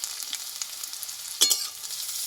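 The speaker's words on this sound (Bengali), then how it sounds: "এইটাই ভালো করে ভেজে নেবো আমি" Onion with crushed ginger and garlic frying in oil in a pan, a close, steady hiss with a brief louder sputter and scrape partway through, no voices.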